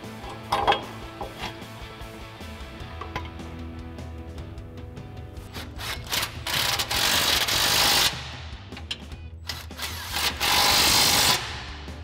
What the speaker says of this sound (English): go ahead and lock those in with the two bolts, and then go ahead and tighten those back up